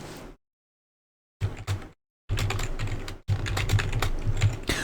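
Keys clatter on a computer keyboard in quick, close bursts as a password phrase is typed, with short silent gaps between runs of keystrokes and no voice.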